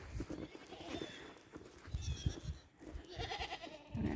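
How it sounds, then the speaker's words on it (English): Horses and other farm animals stir in a barn during a snowstorm, with repeated short snorts and breathy huffs, some shuffling and soft thuds, close and moderately quiet, with no talking. "Got a lot of snorting going on right there at Mr. Lancelot."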